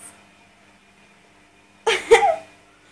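A cat gives a single short, sharp sneeze that bursts out of near silence, close and fairly loud, lasting under a second.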